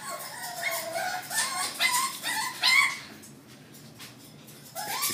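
Several micro bully puppies yip and whimper excitedly before feeding, a close, busy chorus of high cries for about three seconds that eases briefly, then picks up again at the end.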